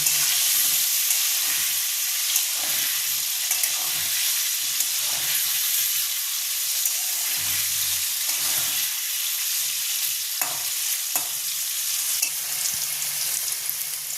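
Potato pieces crisping in hot oil give a steady, close sizzle and hiss that runs unbroken, with occasional pops and soft stirring clatter and no voices.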